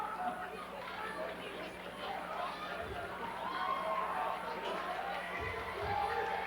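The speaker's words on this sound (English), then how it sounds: "As South crowd making some noise" A high school basketball crowd fills a gym with steady murmur and rising noise during a free throw, voices blending into a broad roar that swells slightly toward the end.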